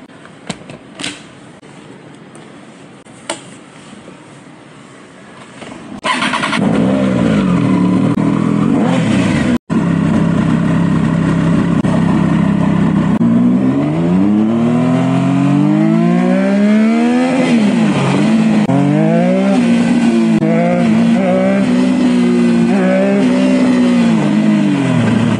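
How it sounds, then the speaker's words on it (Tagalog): A motorcycle engine starts loud after a quiet stretch, then rises and falls as the rider revs and changes speed in traffic, steady and close throughout with no talk. "ang pagmomotor"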